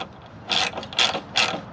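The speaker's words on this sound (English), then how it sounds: "then I'll use a standard open end wrench to spin them off" Wrench working 10 mm brake line fittings on a Pontiac GTO gives three short metallic bursts of clicking, evenly spaced about half a second apart, close and moderately loud with no talking.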